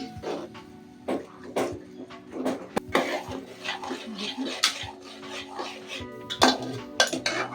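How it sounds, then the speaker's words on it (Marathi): Beaten egg stirred in a pan for egg bhurji, irregular metallic scrapes and clinks of a utensil against cookware, near and fairly busy with no steady sizzle. "आता आपण एक फेटून घेतलेलं अंड टाकूया त्याच्यामध्ये। मस्त असं फिरवून घेऊया।"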